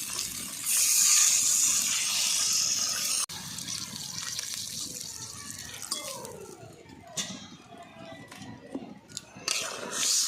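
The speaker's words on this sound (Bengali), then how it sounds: "এবারে ঝোলের জন্য জল দিয়ে দিচ্ছি।" Water pours from a vessel into a pan of spicy tengra fish curry to make gravy, a loud steady gush for a few seconds, then quieter sloshing and clinks as the pan is handled.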